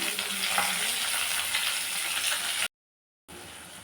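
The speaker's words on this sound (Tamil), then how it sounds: "வெங்காயம் தக்காளி வதங்கிடுச்சுங்க." Onion and tomato sizzle in a pan for a village-style brinjal, raw banana and broad bean gravy, a steady close frying hiss that cuts out briefly near the end.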